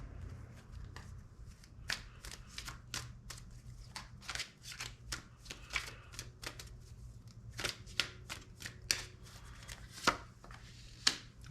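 Tarot cards being drawn and handled: a steady series of crisp, close card snaps and slides, roughly one or two per second, over a low constant hum with no talking.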